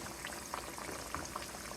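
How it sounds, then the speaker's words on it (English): Pork chops coated in Louisiana chicken fry frying in hot oil, a dense, constant bubbling sizzle with scattered small pops, close and steady throughout without talk. "once they're frying nice and crispy, once they're frying, period, we can turn down the heat"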